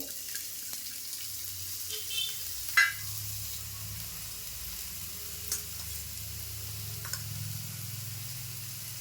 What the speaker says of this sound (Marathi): आता तेल तापलं आहे आता एक कांदा कापून घेतला आहे बारीक तो टाकून घेते